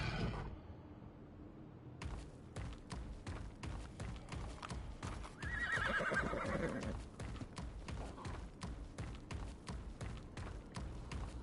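Horse in the video game Ark neighs loudly over a steady clip-clop of hooves as it runs, the whinny rising mid-clip above continuous rhythmic thuds.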